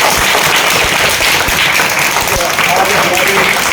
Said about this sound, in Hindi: बच्चों ताली बजा के